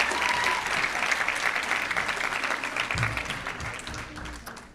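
An audience at a school graduation applauds the fifth grade boys, a steady, full burst of clapping from a crowd that fades slightly toward the end.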